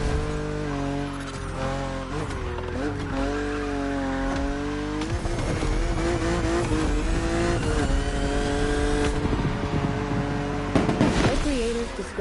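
A BMW driven in The Crew Motorfest, its engine revving and shifting through gears with brief tire squeal, loud and close, while a voice talks over it throughout.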